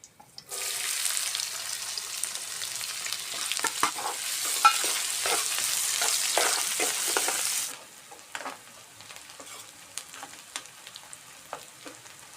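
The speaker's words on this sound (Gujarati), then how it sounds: "તેલ ગરમ થઈ ગયું છે આપણે આ ડુંગળી નાખી દઈશું હવે" Chopped onion drops into hot oil in a pan and sets off a loud, bright sizzle that roars for several seconds, then settles into a quieter crackle with some stirring, close by with no talking.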